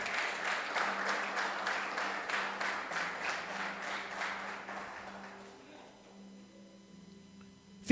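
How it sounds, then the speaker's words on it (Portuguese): A church congregation claps for Jesus during a service in an even rhythmic beat that fades out after about five seconds, leaving a quiet room with a faint tone. "Pode aplaudir a Jesus aí."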